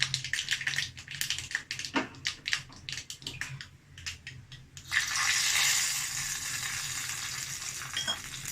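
A rasam tempering with dried red chillies frying in hot oil gives a close, loud, steady sizzle. Earlier clatter and stirring sounds come in short bursts before it.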